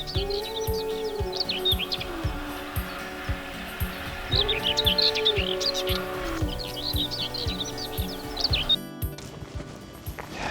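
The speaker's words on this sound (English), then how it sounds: "Lovely seeing that common whitethroat then singing away, such a beautiful song" A common whitethroat in Somerset, England repeats brief scratchy warbling phrases, loud and close, over a steady low mechanical hum with regular faint ticking.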